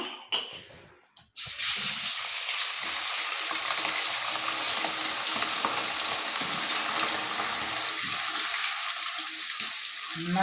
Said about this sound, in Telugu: ఇప్పుడు నూనె వేడైంది. ఇప్పుడు చికెన్ ముక్కలు వేస్తున్నా.